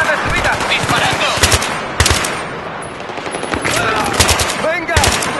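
Dense machine gun fire rattles through a Battlefield 3 battle, long overlapping bursts of rapid shots close by, with game voices shouting over the gunfire.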